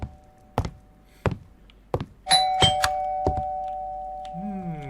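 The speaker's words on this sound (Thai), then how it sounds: "เสียงกริ่งจากที่ไหนนะ" Several hollow knocks sound at intervals, then a doorbell chimes with ringing tones that linger and fade, a synthetic game-like quality throughout.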